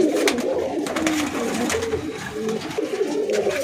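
Pigeons in a loft cooing close by, soft repeated throaty coos overlapping in a low murmur with some rustling, no talk.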